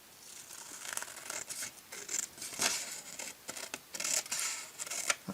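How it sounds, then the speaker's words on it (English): Scissors snipping through paper while trimming a tapered paper insert for a vintage Kenner Star Wars AT-AT toy, a close, quiet run of crisp irregular cuts and rustles with no talking. "if I cut those off just with my scissors here"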